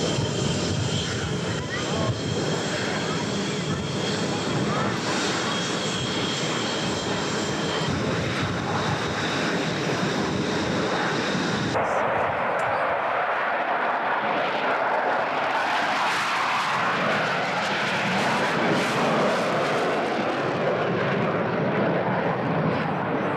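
Military jet aircraft roar loudly overhead in formation at a 1997 naval air station air show, a sustained engine rumble that shifts sharply midway as the planes pass, with an announcer talking over it.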